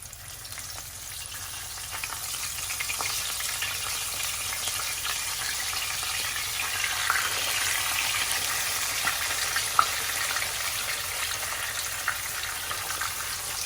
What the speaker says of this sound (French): une fois que j'ai fait chauffer l'huile, donc l'huile est bien chaude, je vais y déposer donc mes morceaux de raie.